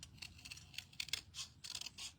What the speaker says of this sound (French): Alors là, je vais découper mon vœu comme ceci.